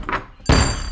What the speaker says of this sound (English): Orange Blossom burst through the doors first.